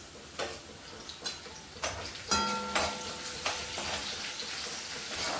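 Curry leaves dropped into hot oil with fried garlic and chilli, a crackling sizzle with sharp pops and spatters, several bursts over a low frying hiss.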